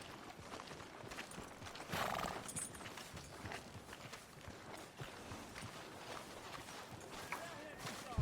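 Faint horse hooves clip-clop at a steady walking pace in a video game, set against a soft, busy background ambience.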